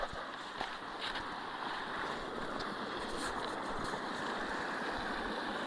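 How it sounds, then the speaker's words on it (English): A small waterfall on a property pours steadily beside a stream running around an island, making a dense, constant rush of splashing water up close. "Check out our little waterfall."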